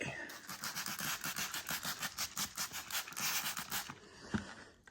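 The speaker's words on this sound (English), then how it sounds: "I have a little scrubber to get the dye into the fabric" Small scrubber working dye into Porsche 911 interior fabric, a rapid rhythmic brushing scrub of steady back-and-forth strokes for about four seconds, close up, then a pause with a light knock.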